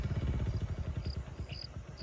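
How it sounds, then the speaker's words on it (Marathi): A motorcycle engine chugs with a low, pulsing idle-like rumble, fairly close and steady throughout, as the bike is ridden near a house under construction. "तो बघा कुठून बाईक टाकतोय"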